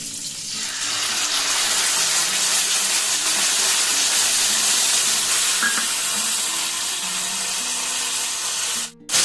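Water used to rinse a bowl being poured into a cooking pot holding ground cashew, white mustard, poppy seed and green chilli paste for a steamed egg dish, a steady close pour running for several seconds and stopping abruptly.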